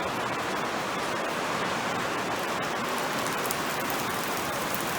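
Rain falling in steady, dense hiss on a grain farm, heard from inside a building, constant and fairly loud without any talk.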